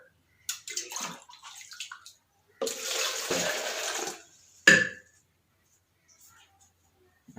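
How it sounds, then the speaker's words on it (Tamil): Tap water running while a milk can is washed, with short splashing bursts, a longer steady gush in the middle and a sharp clank, close by with pauses. "இந்த பால் கேன் கழுவுறதுக்கு மட்டும் குறைஞ்சது இது நிறையா தண்ணி தான் நான் கழுவுவேன்"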